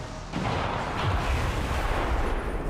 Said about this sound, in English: a bunch of them exploded, so that's fun